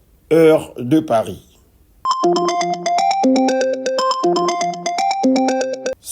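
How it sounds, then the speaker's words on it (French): A mobile phone rings with a bright, repeating electronic melody that plays steadily and loudly, right after a short burst of speech. "C'est mon téléphone qui sonne."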